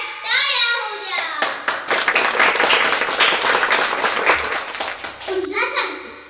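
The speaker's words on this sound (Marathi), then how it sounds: "एकदा सर्वांसाठी जोरदार टाळ्या होऊ द्या" Audience applause at a Women's Day speech event in Marathi, a dense burst of many hands clapping, fairly loud and sustained for several seconds, with voices heard at the start and end.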